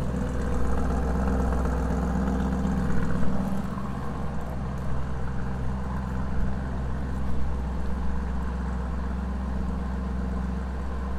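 A 2021 Lamborghini Urus 4.0 V8 bi-turbo hums at a steady, deep idle-like burble, close and continuous with no sharp revs evident and no talk.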